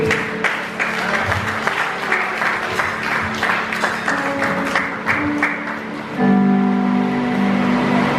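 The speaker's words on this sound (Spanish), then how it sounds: "Dale un fuerte aplauso a tu vida." A congregation at a preaching service breaks into strong applause, a loud, dense clapping wash that carries on for several seconds before a sustained tone and voices rise at the end.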